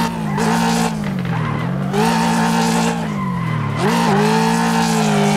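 A Mustang GT drifts in the racing game Assetto Corsa, tires squealing loudly and continuously with wavering pitch over a droning engine, the screech rising and dipping as the slide shifts.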